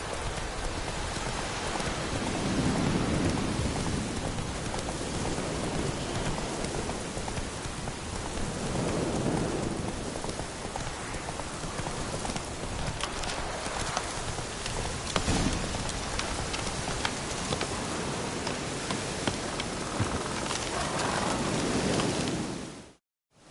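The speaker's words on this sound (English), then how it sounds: "Let it rain." Steady, dense rainfall pours down across the whole stretch, a loud continuous hiss of drops on surfaces with faint low rumbles swelling now and then, alone with no voices, cutting off abruptly at the end.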